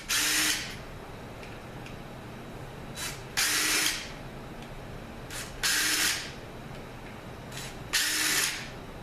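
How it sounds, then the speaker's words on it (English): A ratchet loosens the pump bolts on a ZF 6HP19 automatic transmission, giving four evenly spaced bursts of rapid clicking, close and fairly loud, with quiet shop background between them and no talking. "Okay, so I'm going to take the pump bolts out."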